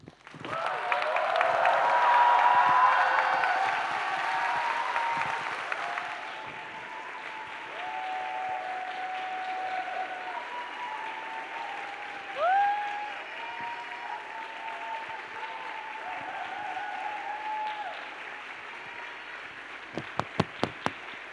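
Audience applause at a show, thick clapping swelling loud in the first few seconds, then thinning under a tonal whistling or musical sound, with a few sharp close claps near the end.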